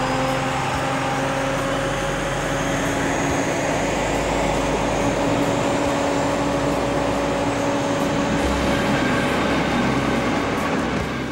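A Reichsbahn V100 diesel locomotive hauls a passenger train near Blankenfelde, Brandenburg, in the mid-1990s. Its loud, steady engine drone and rolling rumble run continuously, close by and with no talk.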